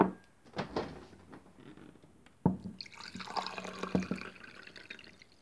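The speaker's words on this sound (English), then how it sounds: "Now let's put some water into it." Water poured from a tap into a drinking glass in a home kitchen, a few clinks and drips first, then a steady close pouring stream with a rising filling tone.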